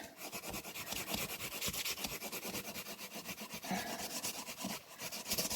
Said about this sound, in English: So hopefully I've got enough time to just quickly burnish the entire